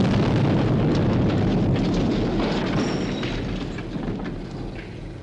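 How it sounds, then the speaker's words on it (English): Explosives detonating as a TV show sound effect: a loud close boom that rumbles and slowly fades over several seconds, alone without speech. "Explosives ready, sir. Right. Detonate."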